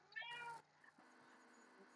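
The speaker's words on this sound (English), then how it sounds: "Is that cat from the neighbor again?" A neighbor's cat gives a single faint, short meow outside a family home, quiet against a low steady background hum.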